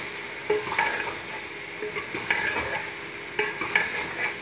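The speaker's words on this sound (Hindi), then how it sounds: "अच्छे तरीके से मिक्स कर लेते हैं।" A spoon stirs spices into potatoes and bitter gourd frying in a pan, with repeated scraping strokes over a steady close sizzle and no talking.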